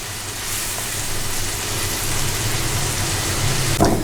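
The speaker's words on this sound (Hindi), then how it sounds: "देखिए सूजी अच्छे तरीके से भुन चुकी है" Ground semolina roasting in a hot pan, a steady dense sizzle and crackle that holds evenly throughout, with a brief stir or scrape near the end.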